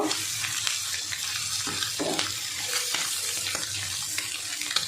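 A pan of pasta sauce with soy sauce and chopped green chilli is stirred with a utensil, making a continuous close sizzle with soft, irregular scraping strokes and no talking.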